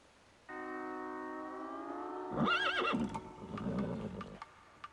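A horse lets out one long, loud whinny that rises into a shaking, fluttering neigh and then trails off into snorts, standing alone close to the listener.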